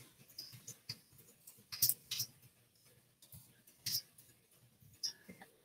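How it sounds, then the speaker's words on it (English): Soft, irregular keyboard typing during a live illustration class: scattered light key clicks and taps in uneven bursts, quiet and close, with a few sharper clicks standing out and no talking. "Sound of me typing."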